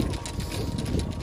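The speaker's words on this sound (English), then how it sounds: "Getting really windy now." Strong wind blows across a golf course and buffets the microphone in a short burst of low, gusty rumble.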